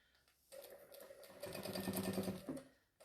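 A sewing machine runs a second row of double stitching around a tote bag made from jelly roll fabric strips, starting after a short pause and humming steadily and close for about two and a half seconds before slowing to a stop.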